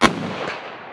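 A bolt-action rifle fires a single sharp shot at a target, with a loud crack followed by a short echoing decay.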